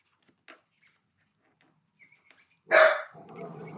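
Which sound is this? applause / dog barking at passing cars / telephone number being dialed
dog barking at passing cars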